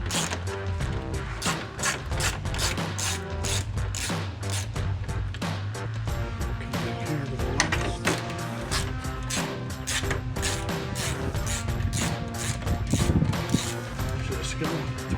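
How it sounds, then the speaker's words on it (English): Four 10 mm bolts being removed from a 2021-2023 Ford F-150 headlight, with rapid ratcheting clicks and metallic rattling that continue throughout, close and busy. "Removing these 4 bolts."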